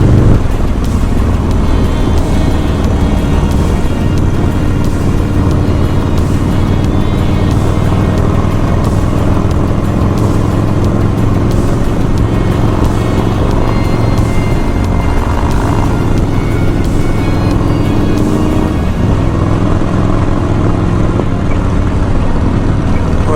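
A Harley motorcycle rides through a city light in Daytona, its engine a constant loud, close rumble blended with heavy wind rush that never lets up.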